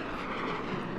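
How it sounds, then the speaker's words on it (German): Propeller aircraft flying overhead in the naval strategy game Forts High Seas, a steady broad engine drone that holds evenly through the short moment without talk. "So, wir können Flugzeuge schmeißen."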